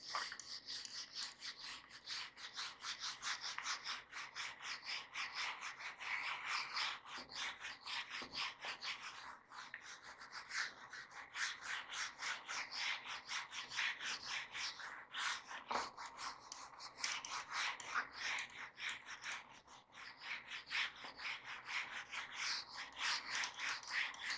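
A teacher erases writing from a classroom board with steady, rhythmic scrubbing strokes, a dry rasping rub that continues close and fairly loud for the whole stretch, with no talking.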